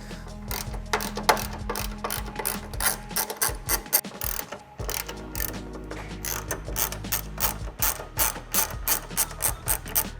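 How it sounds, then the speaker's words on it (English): A ratchet wrench works the bolts holding a Toyota Tacoma taillight, a close run of rapid clicking bursts separated by short pauses, with quicker, lighter ticking toward the end and no voices. "So these 3 bolts right here are the ones that we are going to go ahead and remove"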